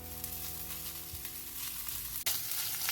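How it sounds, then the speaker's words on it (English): Vegetables and tomato paste sizzle steadily in a hot pan while being stirred, a continuous close frying hiss with a brief scrape partway through. "you're going to add 1 tablespoon of tomato paste to stir it in and fry it all together"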